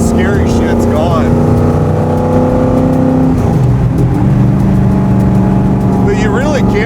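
Loud, steady rumble of a 1967 Ford Mustang FIA Fastback V8 with side pipes idling and burbling close by, the engine note shifting pitch midway, while people talk over it.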